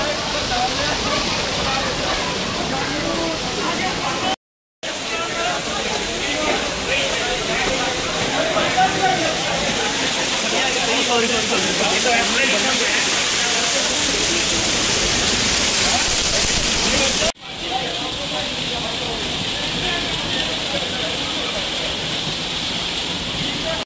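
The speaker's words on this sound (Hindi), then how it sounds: "अब हमने पूरी मस्ती कर ली वाटरफॉल पे, बहुत मजा आया नहाने में" A waterfall at a water park in Solan, Himachal, where people bathe, roars as a loud, steady broadband rush up close, with brief dropouts but no clear talk above the water.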